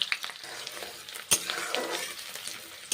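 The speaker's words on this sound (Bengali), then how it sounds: "পেঁয়াজগুলো এখন ভেজে নিচ্ছি" Onions sizzle in hot oil with panch phoron, a steady crackling fry broken by stirring scrapes and one sharp clack of a utensil against the pan.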